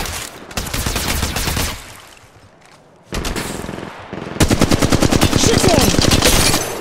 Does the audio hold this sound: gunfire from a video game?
yes